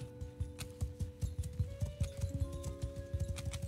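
Horse hooves clip-clop in a steady trotting rhythm in a video game, close and clear over a faint sustained background tone, with no talking.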